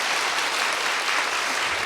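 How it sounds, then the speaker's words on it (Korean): A church congregation applauds the choir with a short, dense burst of clapping. It fills the hall at full volume from start to finish. "우리 성가대에게도 다시 한번 박수를 해주시고요"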